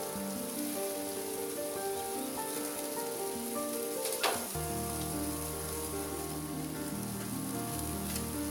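Mushroom skewers sizzle steadily on a grill in a continuous crackling hiss with no talk, and one brief louder pop near the middle.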